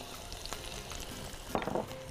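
Garlic sizzles in hot oil for a tasha topping on ful kishk, a steady soft frying hiss with a brief louder crackle burst near the end.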